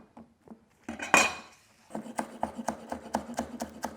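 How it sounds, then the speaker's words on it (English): A knife finely slicing spring onion on a board, a quick run of crisp, evenly spaced cuts after a few scattered knocks and a brief rustle of handling, close and clear with no talk. "I've got some spring onion for the end, which I'm just going to finely slice"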